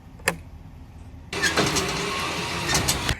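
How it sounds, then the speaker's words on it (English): Winch drawing a pro-am drift car into a garage: a sharp click, a pause, then a steady motor whine with rattling and clunks sustained to the end, fairly close. "in order for me to operate the winch, I gotta do this"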